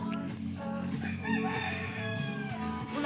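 A rooster crows on a farm beside rice paddies, one long, loud, close cock-a-doodle-doo that fills the moment with no talk over it.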